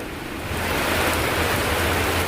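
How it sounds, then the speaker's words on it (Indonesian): Heavy rain pouring outdoors near a remote roadside stall by rice fields, a dense, loud, continuous hiss that thickens after the first half second, with no voices. "Pada saat kita melintas di sini, hujan deras."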